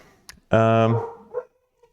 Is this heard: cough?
no